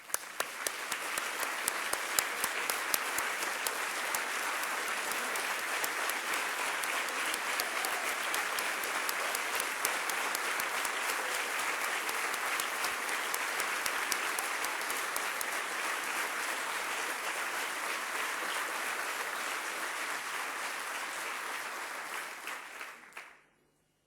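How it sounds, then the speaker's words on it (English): An audience at a social entrepreneurship awards ceremony applauds award recipients, sustained dense clapping from a large crowd that holds steady for over twenty seconds before ending abruptly. "Please stand so that we can applaud and recognize you."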